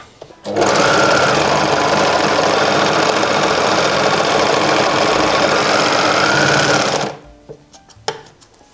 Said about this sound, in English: We are going to overlock those and then press them down